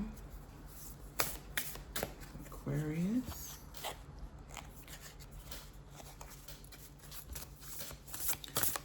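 Close, crisp riffles and flicks of a deck of cards being shuffled in several quick bursts, with a brief spoken word partway through.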